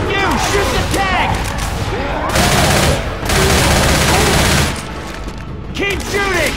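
Rapid automatic gunfire bursts rattle in Left 4 Dead 2 as players unload on the Tank, with dense volleys broken by brief pauses and players shouting over the shooting.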